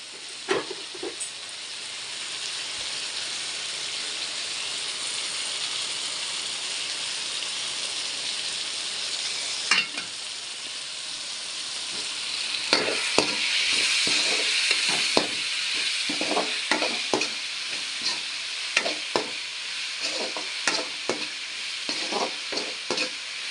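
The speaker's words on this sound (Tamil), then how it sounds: "இதை நல்லா வசங்கி வர வரைக்கும் நல்லா கிண்டி வேக வச்சு" Mutton frying in a pan gives a steady hissing sizzle. Stirring scrapes and knocks grow busier and louder partway through, repeating irregularly until the end.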